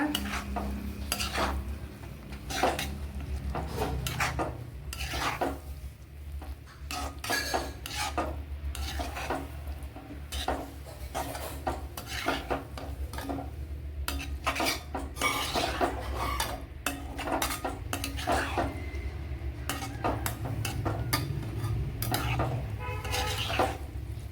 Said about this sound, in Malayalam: നല്ല പോലെ ഒന്ന് കലക്കി കൊടുക്കണം. അതിന് ശേഷം നമ്മുടെ കോളിഫ്ലവർ ചേർത്ത് കൊടുക്കുക.